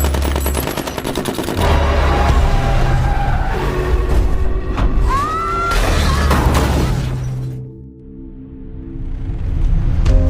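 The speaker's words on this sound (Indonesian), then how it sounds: "mobil Ishak terpaksa banting setir, membuat mobil mereka terguling dan tercebur ke danau." A car swerves, skids and rolls over into a lake during a film chase, with loud crashing, gunfire-like bursts and screeching metal before the noise drops and rises again.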